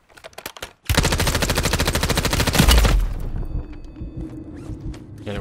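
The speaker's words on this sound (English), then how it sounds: "The other one was just shooting at me" In Warzone, gunfire starts with a few scattered shots, then breaks into a loud, sustained automatic burst of about two seconds before fading to quieter background clatter.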